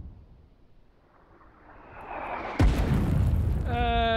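An artillery gun in the war game Foxhole fires one loud, deep boom with a sharp onset that rolls into a sustained rumble. A low background hum is present throughout, and a tonal beeping sounds near the end.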